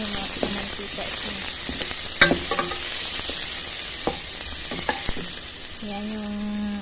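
Ground meat sizzles in oil in a pan for Arabic-style macaroni laham, a steady frying hiss under scattered clicks and scrapes of stirring.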